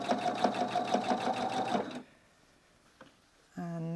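A sewing machine stitching fabric through a bias binder foot, a fast rhythmic mechanical whirr for about two seconds, then a pause with a faint click before the motor starts up again.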